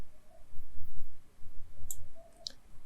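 Computer mouse clicking during Photoshop pen tool work, two or three sharp, close clicks spaced apart over a faint low hum.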